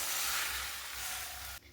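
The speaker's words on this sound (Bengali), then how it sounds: "এই 4টে ডিম যে ফেটিয়ে নিয়েছি এইটা এর মধ্যে দিয়ে দিচ্ছি।" Four beaten eggs hit a hot pan and erupt into a loud, steady sizzle and hiss, heard close up, which cuts off sharply near the end.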